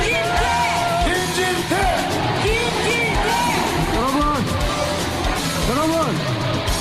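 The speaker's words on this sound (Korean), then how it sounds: "자, 박수 칠 준비!" A dense outdoor political rally crowd in Korea yelling, whooping and cheering continuously, with clapping mixed into a loud, unbroken roar of many voices close by.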